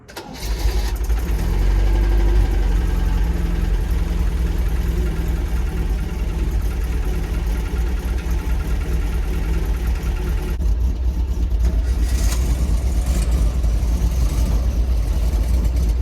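Standard Vanguard classic car engine running at an auction, a loud, close, steady mid-pitched idle with slight rises in revs throughout, no voices.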